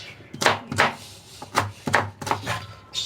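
A knife chops raw mango for chutney in a kitchen, with six or seven distinct, fairly loud cuts in an uneven rhythm and no talking.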